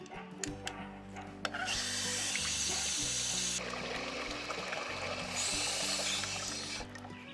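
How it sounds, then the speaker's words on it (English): Water is poured over freshly planted seedlings set in garden mounds, giving a steady splashing flow in two sustained bursts, fairly soft under a background of music. "After I got these seedlings planted up in the mounds, I gave them all a really nice drink of water."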